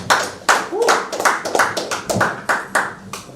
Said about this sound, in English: Please a round of applause for them once again.